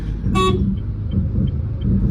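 A truck's horn sounds one short loud toot over the steady rumble of the truck's engine on the road.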